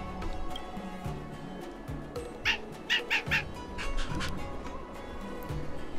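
Diting the dog in Honkai: Star Rail lets out a quick run of four sharp, bright barks in the middle, set against quiet ambient game sound.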